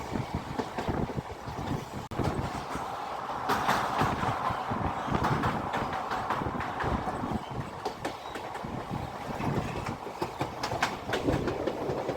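A Miraj–Kolhapur DEMU train runs steadily on the rails near Jaysingpur station, a continuous close rumble with rapid wheel clatter and wind buffeting throughout, no voices.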